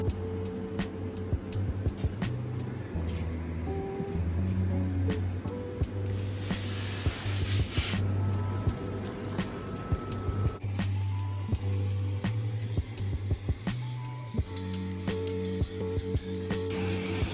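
A nozzle sprays in a steady hiss over rumbling machinery, with a louder, brighter burst of spray partway through and scattered clicks and knocks around it.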